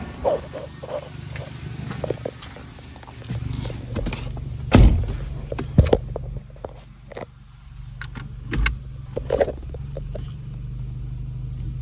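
A Nissan Sentra on a test drive after a brake hose replacement. A steady low engine and road rumble runs throughout, with scattered thumps and clunks from the cabin and a few louder knocks near the middle.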